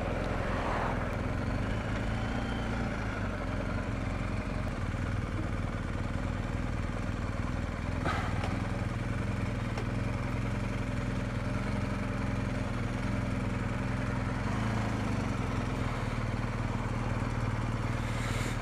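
A 2019 BMW R1250GS motorcycle engine drones steadily while riding, a constant loud rumble mixed with wind noise throughout, with no talking.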